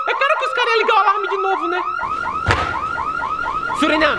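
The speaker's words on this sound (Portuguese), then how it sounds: "devem ter reativado o alarme, né?" An alarm blares in a fast repeating pattern of rising and falling electronic whoops, loud and close. A voice speaks over it, and there is a sharp bang partway through.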